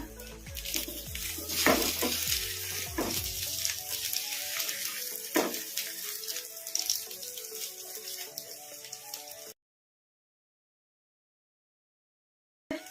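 Omelet bonda fries in a pan with a dense, continuous sizzle and crackle, broken by scattered clinks and scrapes from stirring or turning, before the sound cuts to silence near the end.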